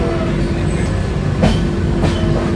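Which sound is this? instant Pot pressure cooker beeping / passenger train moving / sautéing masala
passenger train moving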